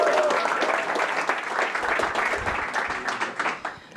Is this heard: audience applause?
yes